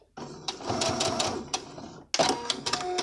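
A sewing machine runs steadily as it stitches across polyester boning on a scalloped-waist skirt, making a dense mechanical whirr that stops briefly and then starts up again. No one speaks.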